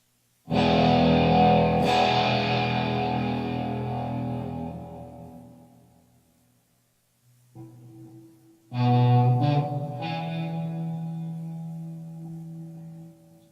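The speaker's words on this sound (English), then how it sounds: "At least it's the Helix version of a plexi." Distorted electric guitar chords through a Line 6 Helix plexi amp model ring out and decay, followed by a short pause and another crunchy strummed passage, loud and alone.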